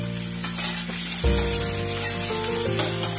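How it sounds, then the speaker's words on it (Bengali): Chopped onion, minced garlic and green chilies dropped into hot mustard oil, a loud continuous frying sizzle with a steady background hum, close and uninterrupted, no talking. "দিয়ে দিলাম পেঁয়াজ কেটে রাখা, রসুন কুচি আর দিলাম কাঁচা লঙ্কা"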